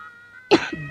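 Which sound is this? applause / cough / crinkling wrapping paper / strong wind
cough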